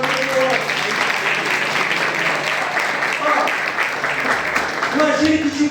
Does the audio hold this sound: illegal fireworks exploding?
no